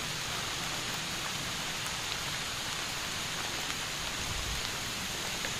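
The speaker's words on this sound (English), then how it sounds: "I'm hoping this rain will stop." Steady rain falls outdoors over a mountain garden, a dense, even hiss of drops with no voices, holding at a constant level throughout.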